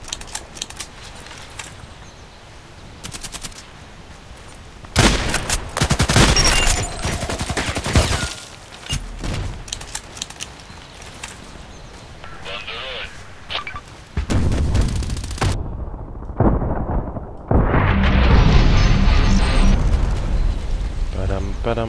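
Shotgun blasts go off in the shooter game Contract Wars, loud and sharp, in scattered bursts. They are mixed with other in-game noises and quieter stretches, and voices can be heard at times.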